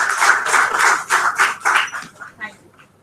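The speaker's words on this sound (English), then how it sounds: "Please, a huge round of applause." Audience applause at the opening of a talk event, a dense crowd clapping loudly and continuously before thinning out to a few scattered claps toward the end.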